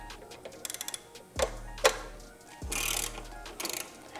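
A machine pulling the fork out of a Harley-Davidson Road Glide motorcycle, giving close mechanical clicks, ratcheting ticks and a couple of sharp clunks with a brief hiss, no talking.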